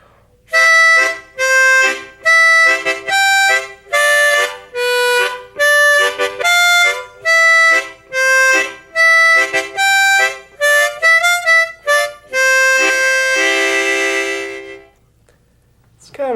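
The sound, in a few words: harmonica playing Skip to My Lou with tongue-blocked chords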